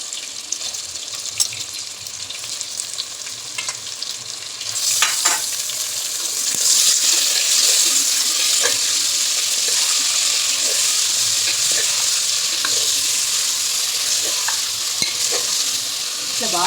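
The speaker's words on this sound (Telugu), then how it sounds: "కలిసిన తర్వాత ఇప్పుడు దీంట్లోకి ½ కిలో చికెన్ వేస్తున్నా" Half a kilo of chicken sizzling loudly in a pan of curry base, stirred continuously with scraping and occasional water-like splashes, close and steady throughout.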